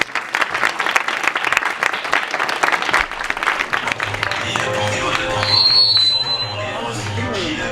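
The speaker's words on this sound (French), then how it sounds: "on peut t'applaudir très fort." Conference audience in a French talk event breaks into loud, sustained applause, dense clapping from a large crowd that swells and holds steady throughout, with faint murmuring underneath.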